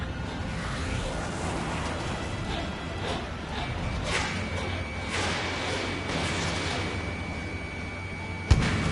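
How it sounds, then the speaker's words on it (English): A missile strike in the combat flight game Ace Combat, with a booming blast and rumble over continuous jet engine roar and cockpit tones, ending in a sharp loud crack near the end. "Missile hit."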